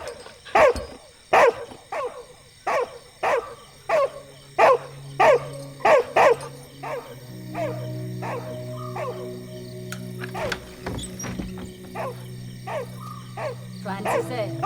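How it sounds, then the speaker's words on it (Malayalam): A dog barks loudly and repeatedly in an even rhythm for several seconds, then the barks turn fainter and sparser beneath sustained tones and other background sound. "ആ പട്ടിക്ക് വിശന്നിട്ടായിരിക്കും അതെങ്ങനെ കുറയ്ക്കുന്നേ"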